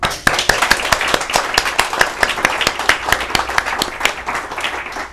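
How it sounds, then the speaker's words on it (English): An audience applauds a speaker after a talk at an open energy event, with distinct, fairly close individual claps ringing out over a quick, uneven patter of many hands, no talk on top. "give him please an applause"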